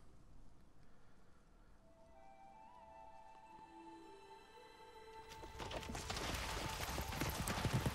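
Several horses' hooves clopping in the Shadow of the Colossus video game, a faint steady patter with tonal game music that swells into a louder, denser rush of hoofbeats and noise in the final seconds.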